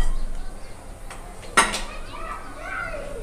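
A kadai is set down for frying, giving one sharp metallic clank against a quiet kitchen background, followed by faint clinks.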